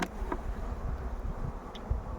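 Honeybees buzz softly around an opened hive during inspection, a low continuous drone with occasional closer passes and faint frame-handling noises.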